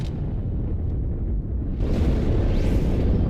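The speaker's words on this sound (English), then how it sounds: "That explosion came from inside the Athens, same as the Malta." A heavy rumbling explosion from the Halo 2 campaign swells in a continuous low roar, dense and sustained, with a brighter blast layer rising partway through.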